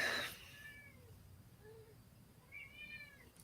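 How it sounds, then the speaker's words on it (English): A hungry cat meows indoors, a few faint, short high-pitched calls spread across the moment, with a louder burst of noise at the start and another pair of meows near the end. "Can you hear my cat?"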